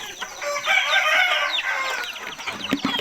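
Several chickens cluck and squawk together, busy and close, with scattered sharp calls from the flock.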